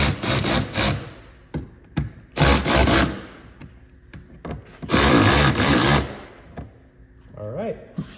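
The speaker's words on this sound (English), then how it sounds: "We're gonna go through and tighten these up." Bursts of ratcheting and rubbing tool noise from tightening the nuts on a front mud flap on a 2020+ Toyota Highlander, coming in several loud spells with quieter gaps and brief talk between them.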